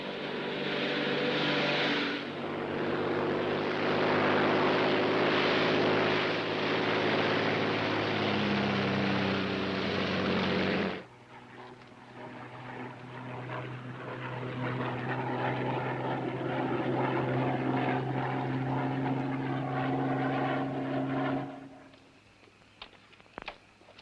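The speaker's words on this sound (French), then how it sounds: "un avion de la Royal Air Force nous attend dans un endroit prévu" Royal Air Force propeller airplane flying, a loud droning engine roar with steady tonal hum that shifts character midway and then cuts out near the end.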